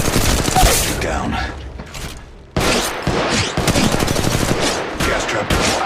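Dense automatic gunfire and rapid bursts in the mobile battle royale game Apex Legends Mobile, loud and continuous, briefly dropping off before resuming with heavy overlapping shots and impacts.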